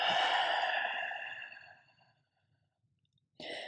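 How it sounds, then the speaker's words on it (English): A long, audible open-mouth exhale during a slow-flow yoga session, breathy and close, tapering off over about two seconds before a brief pause and the start of another breath. "Open mouth, exhale."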